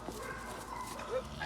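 Blackbeard, a 51-pound pit bull game dog, gives a few barks and yips outdoors in a kennel yard, moderately close, mixed with background yard noise.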